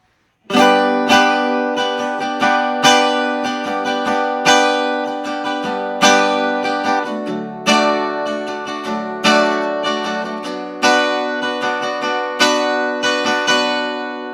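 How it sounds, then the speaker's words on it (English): Acoustic guitar strumming the chorus chord progression of a song in a steady down, down, up, down, up rhythm, bright and close, with no voices. "with the original strumming pattern, down, down, up, down, up. And that sounds like this."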